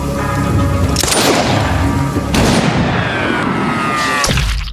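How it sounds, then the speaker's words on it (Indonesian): Gunfire from a pistol in a gangster revenge film, with sharp shots standing out above a dense, loud movie soundtrack that runs the whole way through. "Samidi lalu mengangkat pistolnya untuk menembak saudara tirinya itu"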